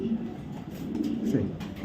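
Racing pigeons coo softly and close, a low throaty murmur running under nearby talk.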